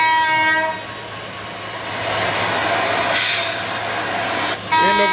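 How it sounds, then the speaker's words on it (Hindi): A working electric locomotive built by BLW with a raised pantograph, rumbling along the rails at close range, its horn blaring loudly at the start and again at the end. "ये लोकोमोटिव वर्किंग कंडीशन में है, और अभी जिस डायरेक्शन में जा रहा है"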